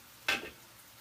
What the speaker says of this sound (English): Stirring my asparagus.